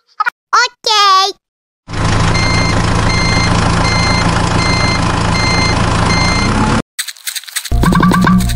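A DIY mini truck or tractor building a concrete road sounds a loud, continuous reversing beeper for about five seconds, with brief child-like voices just before and after it.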